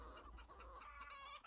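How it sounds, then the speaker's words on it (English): Chickens cluck steadily and close by across the whole stretch, a dense farmyard chatter of overlapping hens with no voices over it. "And there's chickens."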